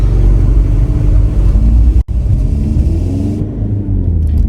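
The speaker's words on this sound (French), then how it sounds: "Écoutez-moi ce véhicule aberrant." A loud, deep engine rumble roars close by, steady and heavy, briefly cutting out once before continuing.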